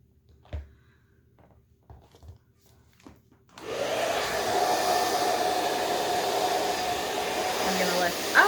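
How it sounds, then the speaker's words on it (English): A hair blow dryer roars on steadily after a few seconds of quiet handling clicks, a continuous broadband whoosh held close while it dries hair worked through with a brush. "keeping the blow dryer and the brush moving at the same time along the hair"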